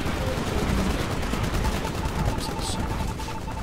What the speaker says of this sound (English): I'm getting shot at from somewhere.